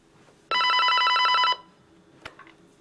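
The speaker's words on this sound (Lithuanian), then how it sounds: "Telefonas" Telephone bell ringing once in a single burst of about a second, close and loud in a quiet room, followed by a faint knock and small movements.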